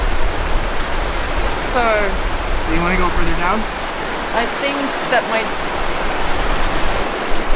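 Rushing mountain creek water at a trail crossing on the Slims River Trail in Kluane, a steady broadband roar that fills the whole clip while people talk nearby.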